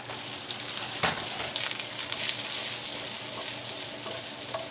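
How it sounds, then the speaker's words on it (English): Carrots and onions sizzle in a hot wok while being stirred and tossed, a dense steady frying hiss with a few scraping stirs, close and loud throughout. "Just casually tossing stuff in the wok."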